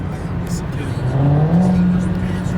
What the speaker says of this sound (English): we got a Hellcat coming up